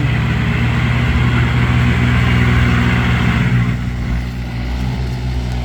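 A loud, close tractor engine revs with a deep, steady droning rumble, then eases slightly toward the end; the tractor is fitted with a five-blade rotary tiller.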